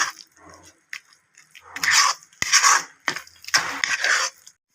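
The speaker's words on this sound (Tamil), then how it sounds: "அடுத்து மீடியம் ஃப்ளேமில் வச்சு ஒரு ரெண்டு நிமிஷம் கிண்டிட்டு" Stirring of thick milk rava kesari in a pan over a medium flame, giving bursts of scraping and rubbing strokes of a spoon against the pan in an irregular rhythm, close and fairly loud.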